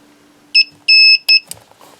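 Three short, high-pitched electronic beeps from a Milwaukee M12 battery charger sound close by, the middle one longer, followed by a soft clatter.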